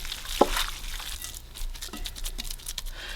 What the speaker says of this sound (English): Go ahead and mix this really well.